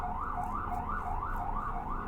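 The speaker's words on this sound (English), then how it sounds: "Bloody sirens." A wailing siren inside the Repainted in Gold video game rises and falls in a steady repeating cycle of about half a second, loud and continuous over a low rumbling background, with no voices.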